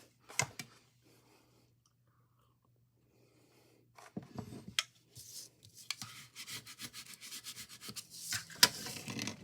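Paint tape is rubbed down firmly against a painted surface, giving faint, dry scratchy strokes that start sparse and grow into a busy run of rubbing near the end in a quiet room.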